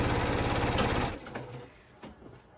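Sewing machine stitching quilt fabric from top to bottom, a fast steady mechanical chatter for about a second that then stops, leaving faint clicks and handling noises.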